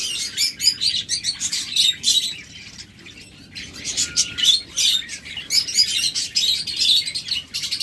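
Lovebirds in a pet-trade setting chirp and squawk repeatedly, a dense run of bright, high calls from several birds close by, with no talk heard.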